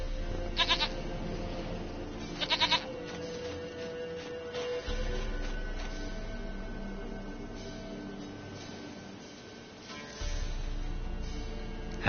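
A goat from The Witcher 3 game lets out several short, bright bleats spaced apart across a continuous low in-game ambient hum, with the final bleat coming after a long pause.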